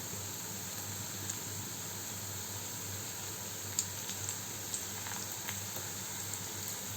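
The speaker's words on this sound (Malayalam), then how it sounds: "ഒരു ഭാഗം ഫ്രൈ ആവുന്ന സമയത്ത് നമുക്കിത് മറിച്ചിട്ട് അടുത്ത ഭാഗം കൂടി ഫ്രൈ ചെയ്തെടുക്കാം" Potato rolls fry in hot oil with a steady, quiet sizzle and faint scattered pops and crackles, with no one talking.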